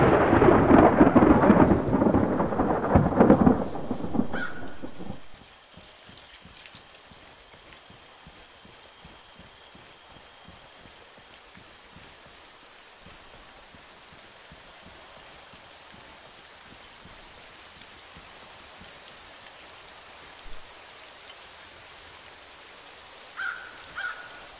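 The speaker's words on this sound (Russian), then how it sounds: "Задолбал этот дождь." A video game thunderstorm opens with a loud rumbling thunderclap, then fades into a steady, faint patter of rain with a few isolated drips.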